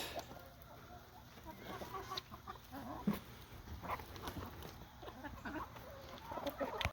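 Chickens cluck softly and intermittently against a quiet outdoor background, with a few louder peeps scattered throughout.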